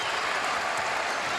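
Basketball arena crowd at a Bucks–Warriors game cheering and applauding steadily, a dense, loud wash of clapping and shouting filling the whole moment without a break.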